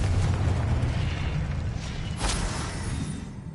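A Confringo blasting spell goes off in Hogwarts Legacy, a deep rumbling boom with a bright burst partway through that fades out, loud and near, with no talk.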